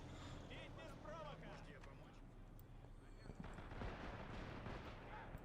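Battlefield gunfire and heavy booms from a Russian first-wave attack backed by three T-34-85 tanks against Japanese positions in the Men of War Assault Squad 2 Manchurian city siege, a dense continuous rumble with scattered shots, under a background voice.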